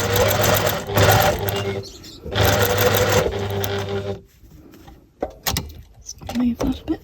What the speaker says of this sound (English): trying my best to stitch in between them